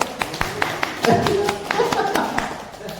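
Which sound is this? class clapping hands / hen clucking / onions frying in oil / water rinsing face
class clapping hands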